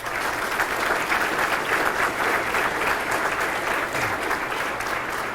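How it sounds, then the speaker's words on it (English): Audience applause for state legislators being recognized at a high school event, a steady, full wash of clapping from many people that holds evenly for several seconds. "Give them a round of applause."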